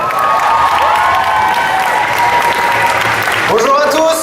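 A convention audience at Paris Manga applauds the host's entrance with dense, loud clapping, mixed with cheers and shouts from the crowd. Voices rise over it near the end.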